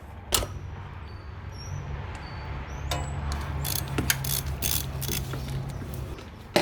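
A hand ratchet threads cleaned, wire-wheeled bolts back into a 1988 Buick Electra Park Avenue, giving sparse close clicks and a few sharp metallic knocks over a low steady background hum.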